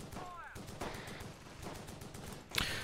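Machine-gun fire from an MG42 in the Close Combat strategy game: a steady run of rapid, mid-distance bursts under battle noise, with a sharper, louder crack near the end.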